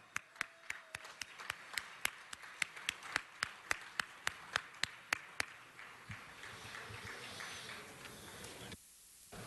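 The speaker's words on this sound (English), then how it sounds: "Give them another round of applause." Sparse clapping at a city council meeting: a few distinct, evenly paced hand claps ring out over a quiet room, thinning and stopping near the end.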